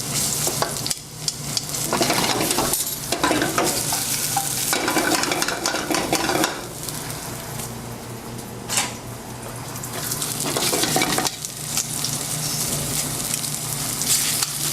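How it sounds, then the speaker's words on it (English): Apples and onions sautéing in a pan, a continuous crackling sizzle broken by stirring and scraping bursts, close and steady, with no talking. "We're going to saute our apples and get them nice and soft with the onions."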